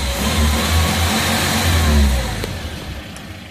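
The 5K engine of a 1997 Toyota LiteAce revs up close, a loud, steady mechanical roar held for about two seconds before easing back toward idle.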